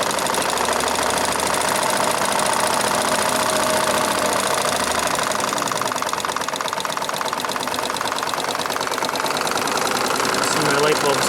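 A Wilesco D32 model steam engine runs at steady speed, its rapid, even chuffing and mechanical clatter filling the whole stretch at close range without a break.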